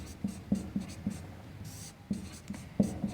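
Marker or chalk writing on a board during a Hindi-language maths lesson on linear equations in two variables, a series of short scratchy strokes and taps in uneven rhythm, close and fairly quiet.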